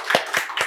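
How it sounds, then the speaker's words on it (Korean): A church congregation claps hands together at a year-end Sunday service, three loud distinct claps spaced evenly apart in a short burst. "우리 하나님께 영광의 박수 올리겠습니다"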